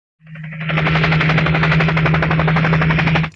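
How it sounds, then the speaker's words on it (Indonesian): Sustained automatic gunfire in a film scene, a rapid unbroken burst of loud shots lasting about three seconds, with a steady low hum beneath and no talk. "Lalu Charlie menembak John hingga modiar, dan setelah itu Charlie pun pergi."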